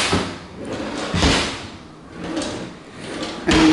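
Kitchen island drawer sliding open and shut several times, rushing slides with soft knocks at the ends, close and fairly loud.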